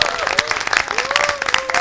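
An audience at a religious gathering claps steadily and densely, with many hands close together and a sustained roar of applause, while a voice speaks over it.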